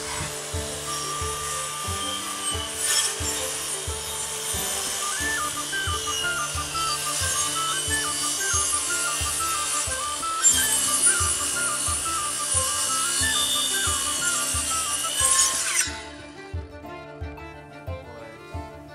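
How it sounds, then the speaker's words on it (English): Handsaw cutting a wooden roof rafter to trim it to fit during a truss retrofit, rapid regular back-and-forth strokes close by for about fifteen seconds, then stopping abruptly. "sometimes rafters need to be trimmed to fit"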